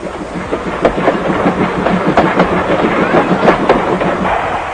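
A train rolls steadily along the rails, with a continuous rumble and a rhythmic clickety-clack of wheels passing over track joints.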